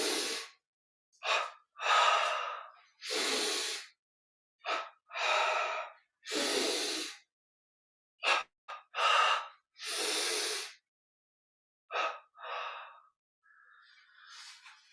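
Double inhales and double exhales sound in a breathing yoga exercise: close, loud, airy breaths in paired bursts separated by silences, repeating steadily.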